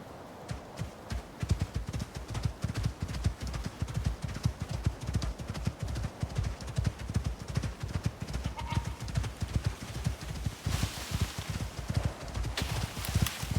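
Hooves clop in a quick, steady rhythm as a goat walks across the ground in the survival video game ICARUS. The footfalls are close and continuous throughout, with a brief burst of noise near the end.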